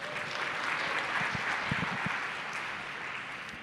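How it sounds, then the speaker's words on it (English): Audience applause fills a conference hall, a broad wash of many hands clapping steadily, with a few sharper nearby claps standing out midway, no speech over it. "Let's cheer for that."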